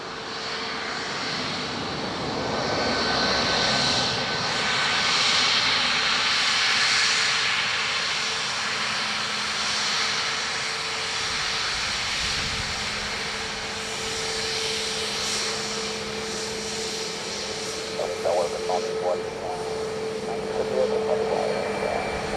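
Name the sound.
aircraft arriving at Dublin Airport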